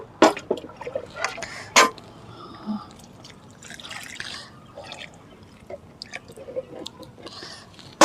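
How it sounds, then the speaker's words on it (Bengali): Water is poured into the pot of a freshly repotted hibiscus seedling, giving soft drips, trickles and wet squishing into the soil in short bursts, with a few sharper taps along the way. "এই যে আমি গাছটা এখন প্রতিস্থাপন করলাম, তো এইভাবে করে আমি এখন জল দিয়ে দেবো"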